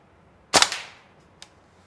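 A Tokyo Marui AKM gas blowback airsoft rifle fires a single sharp semi-automatic shot loaded with 0.2 g plastic BBs, followed a moment later by a faint distant tap, presumably the BB striking the target.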